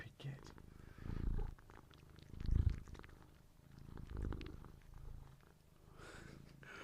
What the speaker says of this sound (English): It's cat ASMR, isn't it?